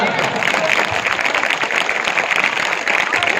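A crowd at a Shiv Jayanti gathering claps loudly and steadily, a dense continuous patter of applause with no break and some voices mixed in.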